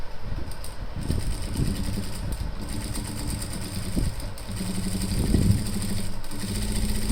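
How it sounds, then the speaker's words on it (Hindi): An electric sewing machine runs steadily while stitching a seam over a men's trouser pocket, a continuous motorised hum with slight rises and falls in speed and a brief louder burst near the end, with no talking. "अब हम इसके ऊपर सिलाई लगाते हैं इस तरह"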